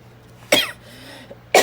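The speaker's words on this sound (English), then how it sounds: "I'm gonna go into a coughing fit" Two sharp, close coughs break out about a second apart, with a faint throaty rasp between them.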